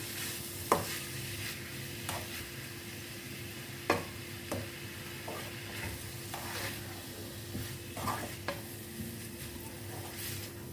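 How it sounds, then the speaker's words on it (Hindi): A spoon stirs and mixes chopped boiled egg into a vegetable kabab mixture in a pan, giving soft scraping strokes and occasional clinks over a steady low sizzle. "और इस सबको हम अच्छे से मिक्स कर लेते हैं"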